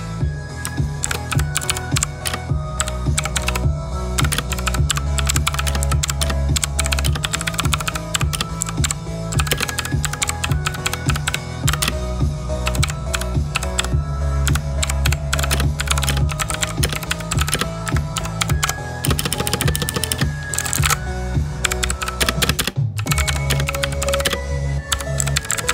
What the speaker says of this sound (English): let me do a little bit of a typing test to show you how it sounds. And let's type something and listen to Blue Outemu switches